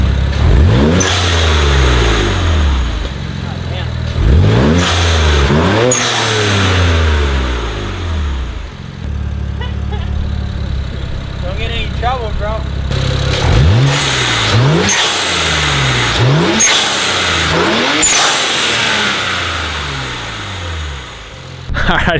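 A BMW 335i with the N54 engine, aluminum charge pipes and an HKS blow-off valve revs hard in repeated loud bursts, each climb falling away with a sharp valve release, while people talk nearby.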